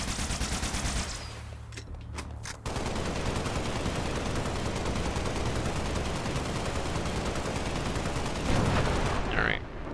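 Needler weapon firing in the video game Halo: Spartan Assault, a dense, continuous stream of rapid game gunfire filling most of the clip, loud and steady, with a brief quieter break early on.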